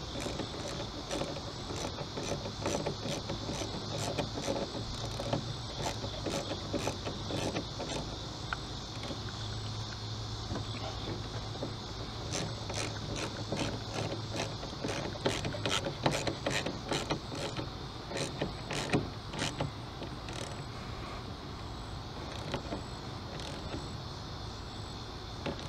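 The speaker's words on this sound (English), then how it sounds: "you just take a 10 millimeter, start tightening this plug down, and it should drag it in" Quiet clicking of a 10 mm ratchet tightening a plug on the intake of a Ford Explorer 4.0L engine, a steady series of small rapid ticks in repeated runs, close but faint.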